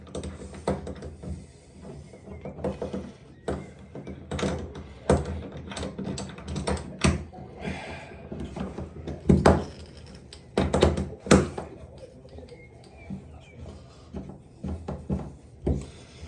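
Bar shower being bolted onto its wall fittings, a run of close thunks, taps and knocks at uneven intervals with short bursts of handling noise, moderately loud and with no talk.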